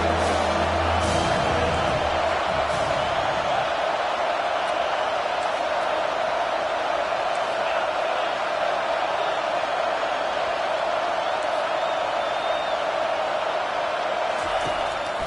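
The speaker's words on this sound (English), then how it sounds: "Decibels rising as the crowd gets behind this defense on 3rd down" Steady roar of a stadium crowd in a Madden-style American football video game, rising behind the defense on third down, loud and continuous throughout.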